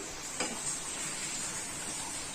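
Poha upma with coriander is stirred in a pan, giving a close scraping stir over a steady soft sizzle of frying.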